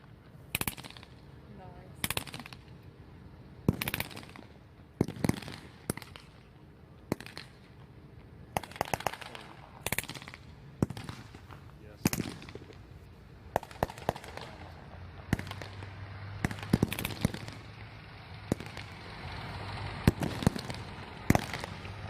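Tanks fire at targets during a Tankfest battle display, with sharp broadband blasts and crackling shots scattered irregularly across the scene, some close and loud, others fainter, and a low engine rumble building toward the end.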